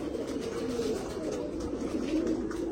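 Blue-coat pigeons coo steadily at close range, a continuous low throaty murmur of overlapping calls from several birds.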